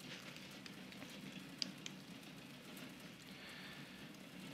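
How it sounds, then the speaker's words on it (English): Light rain falls steadily at a small airfield in Tasmania, a soft continuous patter with a couple of faint ticks, heard alone at low level. "it's raining."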